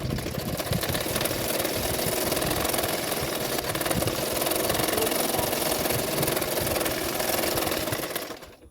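Sewing machine stitching along the folded edge of a 36-size katori blouse, a steady close mechanical whirr with rapid needle rattle running continuously before stopping at the end.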